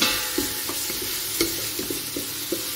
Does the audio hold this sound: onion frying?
yes